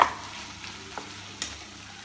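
Spiced beef roast sautés and sizzles quietly in a pan, a soft steady frying hiss with a couple of faint stirring clicks.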